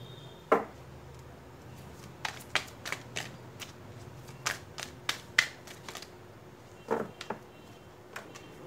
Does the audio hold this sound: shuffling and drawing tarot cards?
yes